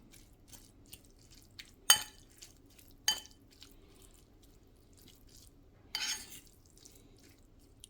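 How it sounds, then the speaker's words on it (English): Greek greens tossed with lemon juice and olive oil, quiet wet squishing and dripping with a few sharp clinks of a utensil against a bowl, scattered and close with no talking. "We're going to mix this up and serve."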